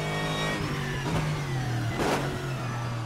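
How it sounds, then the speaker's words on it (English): A Lux GT3 race car's V8 engine in Assetto Corsa drones steadily at high revs with a mid-toned, slightly tame note, rising and falling briefly as gears shift, loud and up close. "those V8, or the V8 sound, rather, here in this Lux, perhaps a little more tame"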